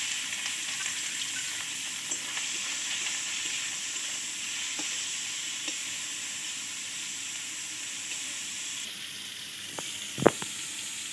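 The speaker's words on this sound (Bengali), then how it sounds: "চিংড়ি মাছটা দিয়ে দেবো।" Small shrimp frying in hot oil for a Bengali dish with taro stolons, giving a steady close sizzle and hiss throughout, with a few faint utensil clicks and one sharp knock near the end.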